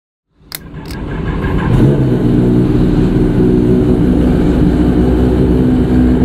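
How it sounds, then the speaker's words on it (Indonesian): A Kawasaki ZX10R sport motorcycle engine fires up after a couple of sharp clicks and swells into a loud, close, steady roar that holds for several seconds. "Ini mah salah satu motor idaman banget nih"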